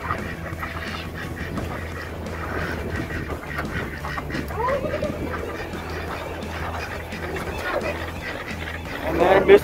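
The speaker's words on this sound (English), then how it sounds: "Look at these ducks." Ducks quack along the Las Vegas Pioneer Trail amid outdoor bustle, with people talking nearby and a louder burst of sound near the end.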